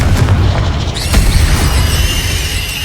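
Loud booming spell blasts from Confringo in Hogwarts Legacy, a dense rolling explosion with a sharp crack near the one-second mark, sustained crashing rumble throughout, no talk.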